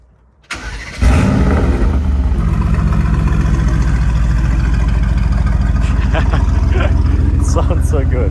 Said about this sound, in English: I love the AMG sound.